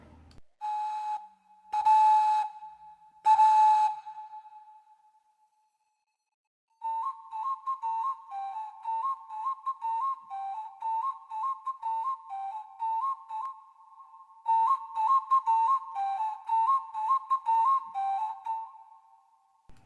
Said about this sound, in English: Ocarina de Lapa.